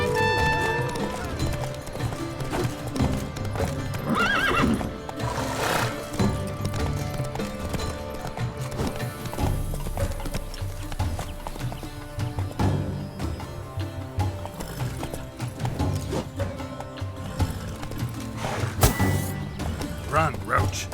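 Roach the horse gallops with rhythmic clip-clopping hooves and an occasional neigh in The Witcher 3, mixed under steady music and game ambience.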